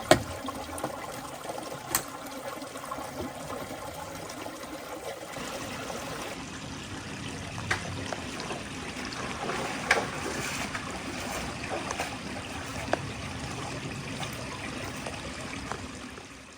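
Small side creek trickles and burbles at a junction along a wild hiking and packrafting route, a steady low wash of running water with a few faint clicks and knocks over it.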